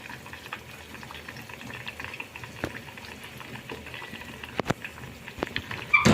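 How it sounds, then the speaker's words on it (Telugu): Homemade herbal coconut hair oil simmers in a pan, giving faint soft bubbling and sporadic pops and ticks over a quiet background, with sharper crackles toward the end. "ఇప్పుడు హీట్ అయింది ఆయిల్ కాస్త చూడండి మరుగుతుంది"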